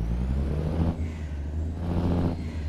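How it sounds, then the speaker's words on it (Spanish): Low, steady rumble of a Kenworth T600 truck engine in American Truck Simulator, hauling 30 tonnes up a steep climb, with two short hissing bursts over the drone and no talking. "este motor, ahora lo estaba escuchando súper fuerte y ahora lo escucho súper bajo"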